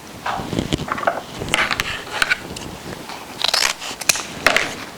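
Scissors snipping through ribbon for a deco mesh football wreath, several crisp cuts and rustling crinkles in irregular bursts, close and clear with no talk.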